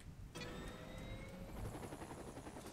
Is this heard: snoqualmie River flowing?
no